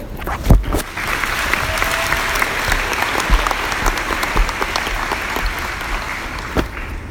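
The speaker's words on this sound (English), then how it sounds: "These are the round of applause for Courtney." A crowd applauds steadily at a high school graduation ceremony, a dense wash of clapping that holds for several seconds before tapering off near the end.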